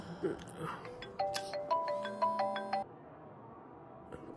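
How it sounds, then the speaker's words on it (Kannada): A mobile phone rings with an incoming call, a short melodic ringtone phrase repeating in bright pulses for a couple of seconds before cutting off, after a brief voice at the start. "ಅವಾಗಿಂದ ಫೋನ್ ಬರ್ತಿದ್ಯ, ಎತ್ತ ಮಾತಾಡೋ."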